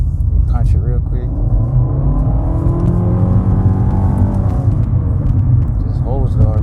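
A 2017 Nissan Altima SV engine pulls hard under acceleration, a steady loud drone with slowly rising harmonics heard from inside the cabin, with someone talking over it at the start and end.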